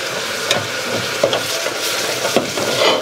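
A half ladle of stock stirred into a roux in a pan for velouté sauce, with soft sizzling and a few distinct spoon scrapes and taps against the pan at a steady rhythm, no talking.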